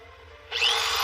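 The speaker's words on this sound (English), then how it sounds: "Okay, you can start to drill right there." A power drill spins up with a sudden rising whine as it starts boring a bolt hole into a wooden sill, steady and close after a quiet start.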